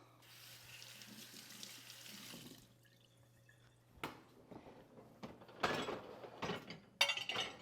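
A kitchen tap runs steadily as something is rinsed off under it, the flow breaking and splashing unevenly before a few clunks and handling noises near the sink, no talking.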